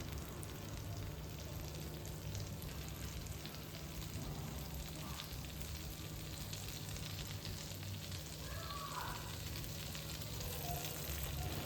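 Coriander leaves heat in a pan with a steady, faint sizzle that holds evenly throughout, with no talk.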